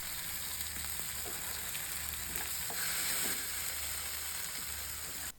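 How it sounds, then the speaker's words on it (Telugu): Sweet potato slices fry in a tangy, spicy gravy, giving a steady close sizzle with soft bubbling and occasional stirring taps throughout, with no voices. "ముక్కలను తిప్పి వేయించాలి"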